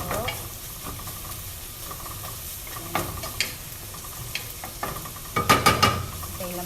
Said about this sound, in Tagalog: Sinabay ko na yung garlic tsaka yung ginger kasi para hindi masunog.